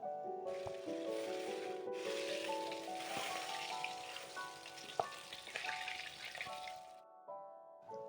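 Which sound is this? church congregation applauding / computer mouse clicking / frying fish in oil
frying fish in oil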